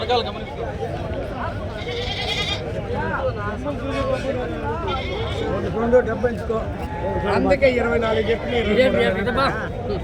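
Sheep bleat on and off at a busy Sunday sheep market in Pileru, mixed in with crowd chatter and nearby voices talking throughout.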